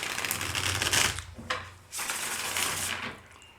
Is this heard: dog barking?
no